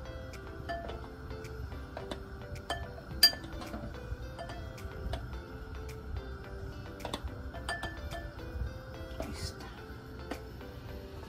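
Metal tongs clink lightly against a pan while handling cheese-stuffed battered chiles rellenos, sharp small ticks scattered irregularly over a steady low kitchen background with faint talk.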